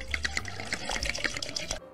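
Vodka is poured into a basin of blocking water with vinegar for softening knitted wool, giving a close, bubbly splashing and trickling for about two seconds.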